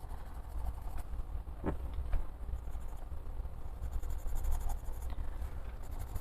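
Colored pencil shading on paper while coloring a picture, a steady close scratchy rasp of lead over the sheet with small taps and strokes, continuous and soft.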